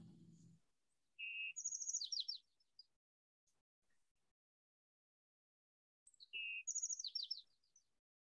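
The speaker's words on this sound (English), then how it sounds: "There's definitely a bird somewhere." A small bird chirps in a yard, two bursts of quick high tweets and trills separated by silence, faint and distant, after a brief low voice at the start.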